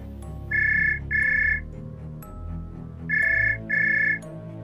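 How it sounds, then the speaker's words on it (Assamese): A mobile phone rings with an electronic ringtone, two pairs of evenly spaced bright tones separated by a pause, clear and close over a low steady hum. "তেনেতে তাইৰ ফোনটো বজি উঠিল।"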